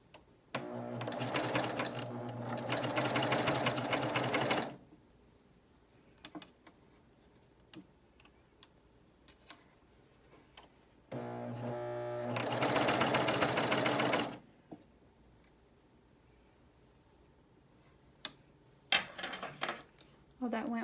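A BabyLock Euphoria coverstitch machine runs along a seam in two sustained, steady whirring bursts, with quiet stretches of faint clicks and handling between them.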